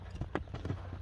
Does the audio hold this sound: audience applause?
no